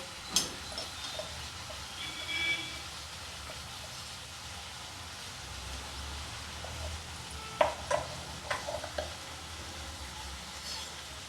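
Coriander and chili powder frying with tomatoes in a pan, a quiet continuous sizzle close by, with a few sharp scraping stirs of a spoon against the pan near the end.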